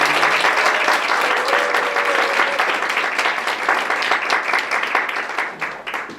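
A room full of people applauds, the clapping dense and sustained before gradually thinning toward the end.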